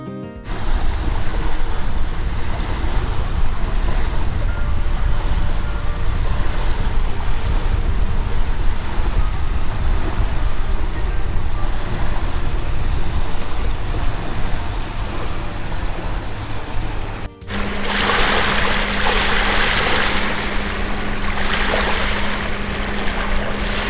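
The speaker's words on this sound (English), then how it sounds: "you could hear the water and the waves hitting the beach" Gentle waves lap continuously onto the beach at Black Point on South Australia's Yorke Peninsula, a steady close wash of surf with heavy wind buffeting the microphone and no talking.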